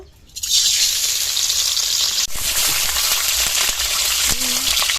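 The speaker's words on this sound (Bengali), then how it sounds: "এবার ডিমগুলো ভেজে নেব।" Eggs hit hot oil left from frying onions, bursting into a loud, steady crackling sizzle after a quiet start, with occasional utensil clicks.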